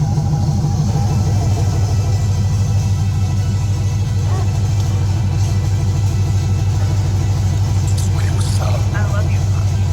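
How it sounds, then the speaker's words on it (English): An LS-swapped 1983 Camaro's V8 idles and rumbles loudly and steadily up close, with a deep, continuous engine drone throughout and light revving texture. Faint talk sits in the background. "I'll let it warm up and I'll rev it so y'all can hear what it sounds like."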